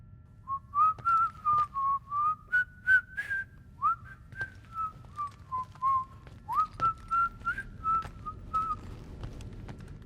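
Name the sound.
character whistling in Guardians of the Galaxy video game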